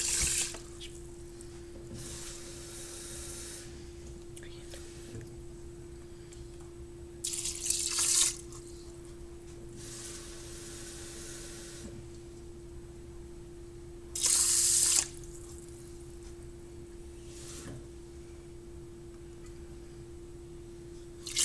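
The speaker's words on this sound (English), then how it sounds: "We're going to add like 3 and a little bit more water to the rice." Tap water running into a pot of rice in a home kitchen, heard as a few bright splashing bursts over a steady low hum with quiet gaps between them.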